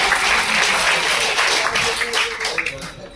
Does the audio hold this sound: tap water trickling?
no